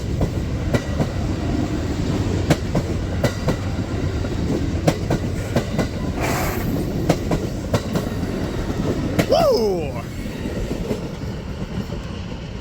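The Chief passenger train, bound for Chicago, rumbles steadily past close by, its wheels clacking rhythmically. Near the end a wheel squeals briefly and a person whoops once.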